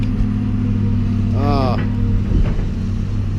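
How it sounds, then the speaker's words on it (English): A small 4-horsepower chainsaw engine runs at a steady idle, a loud, constant buzzing drone that lasts the whole time, with a voice briefly heard over it. "this little saw runs really good to be a small saw"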